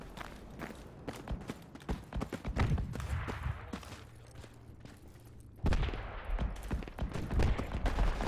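Heavy gunfire in the tactical shooter game Project Reality, with dense bursts of rifle and machine-gun shots crackling continuously, some close and loud, others more distant, forming a sustained firefight.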